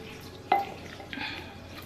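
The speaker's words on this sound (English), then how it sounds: "Balsamic vinegar, black pepper, salt mixture. And we're going to stir this up." A spoon stirring a mixture of balsamic vinegar, black pepper and salt to coat food, with a sharp clink of utensil against the bowl and then soft wet swishing, close by.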